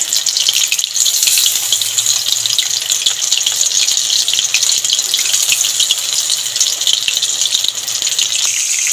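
Amudi fish coated in batter frying in a pan over a lowered gas flame, giving off a steady, continuous sizzling hiss close by, with no talking.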